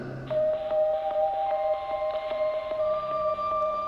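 Radio signal from the 1957 Russian Sputnik satellite in orbit, a steady train of evenly spaced electronic beeps with a sustained tone over faint static, heard alone.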